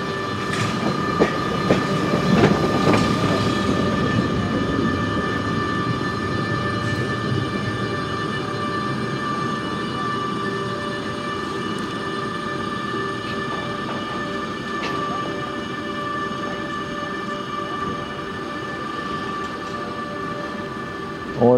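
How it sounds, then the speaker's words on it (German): A BLS Cargo freight train passes near Spiez in Switzerland, a steady loud rumble and rattle of wagons running on for about twenty seconds with no talk. "Und für diesen BLS Cargo Zug scheint der Fahrweg in Richtung Interlaken Ost zu gehen"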